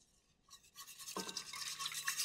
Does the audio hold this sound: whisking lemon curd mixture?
yes